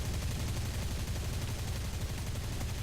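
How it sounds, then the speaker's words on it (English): A PE-8 bomber in War Thunder fires its front guns and rear cannons, giving a continuous dense rattle of rapid gunfire with heavy low rumble that stays loud throughout. "So here we go, firing with the front guns and rear cannons on this last vehicle."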